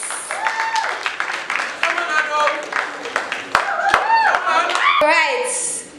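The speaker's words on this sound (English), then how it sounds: "let's give a round of applause to our second prince and princess." At a pageant finale, an audience applauds the second prince and princess, scattered sharp claps ringing out amid lively cheering, shouting and chatter from the crowd, including young voices.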